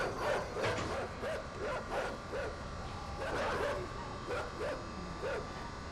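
Dogs bark repeatedly in the side-scrolling video game Inside, a string of short, mid-loud yaps and woofs over a dense, noisy game background.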